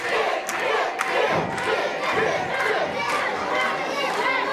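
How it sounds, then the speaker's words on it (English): A wrestling crowd at a live championship match cheers and chants in a loud, continuous roar, shouts rising and falling close by throughout. "David Morales finding himself back to his feet to get this crowd behind Dick Lane"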